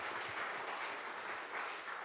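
Soft audience applause at a world-music choir event, a steady, fairly distant patter of many hands clapping without any spoken words.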